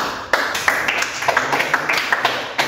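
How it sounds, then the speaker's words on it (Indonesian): A small class in a mathematics teaching session claps, a loose patter of nearby hand claps with a few sharper strikes, fairly loud and continuous. "Tepuk tangan dulu"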